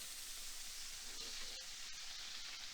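Hot oil sizzles and hisses steadily as it is poured over rosemary, a continuous bright frying crackle with a few sharper pops, close and fairly even throughout.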